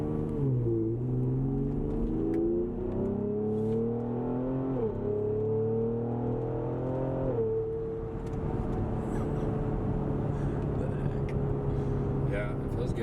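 Ford Explorer ST SUV in sport mode after an intercooler install, its engine revving up through rising tones and dropping between shifts, then holding a steady cruising drone, close and continuous under occasional faint talk.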